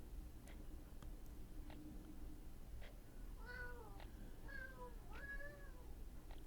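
A cat meows twice in The Sims 4, a pair of clear, rising-falling calls near the end, over a steady background hum with a few faint ticks earlier.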